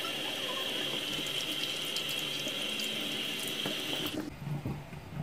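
Tap water runs steadily into a sink while soap washes tattoo marker off skin, a continuous close splashing hiss that cuts off near the end, followed by a few faint handling sounds.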